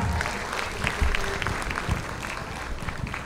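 An audience at a Punjabi women's talent and beauty pageant in Vancouver claps loudly and continuously to welcome a contestant, a dense burst of applause with a few louder claps.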